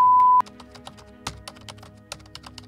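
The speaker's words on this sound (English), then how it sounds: "You're like trying to type fast and beat." Rapid typing on a computer keyboard during a typing game, a dense run of close, crisp key clicks and taps following a brief steady tone at the start.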